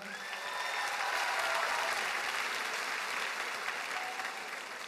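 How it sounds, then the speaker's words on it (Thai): Sustained applause from a live audience at the Miss Universe Thailand 2022 pageant, a dense, steady roar of many hands clapping together at a fairly even level with no talk over it. "ถ้าเห็นด้วยปรบมือครับ"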